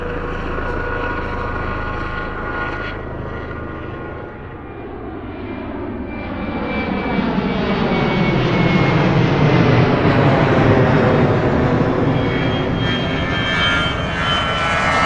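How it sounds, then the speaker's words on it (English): Marine attack jets standing on hot pad alert at Chu Lai in 1965, engines running, a loud sustained roar that dips, then swells as an engine spools up, with a shifting whine layered over the rumble. "A section of jets standing armed and ready to scramble, engines running and with pilots in the cockpits"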